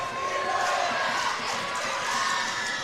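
A home crowd at a varsity high school basketball game in the Maumelle Hornets gym cheers and shouts continuously, a loud, steady roar with whoops and students yelling throughout.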